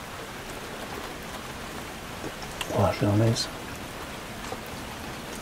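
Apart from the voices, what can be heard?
rain falling on a parked car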